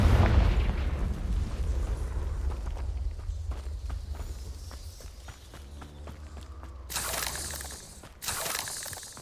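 Hogwarts Legacy's Confringo blasting spell goes off with a deep rumbling boom, then fades under scattered footsteps before two sharp bursts of crackling blast noise near the end.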